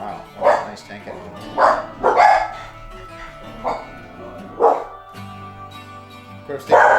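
Pet dogs barking in short, loud bursts spaced a second or two apart, close by, with a low engine-like drone underneath.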